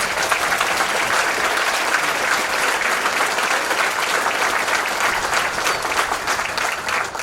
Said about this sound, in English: let's give these family members a round of applause.